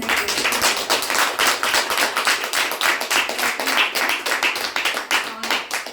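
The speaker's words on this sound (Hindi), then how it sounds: "एक बार जोरदार तालियां।" An audience at a winter skin care session clapping steadily to welcome guests, with dense, even, rhythmic claps throughout and some faint voices underneath.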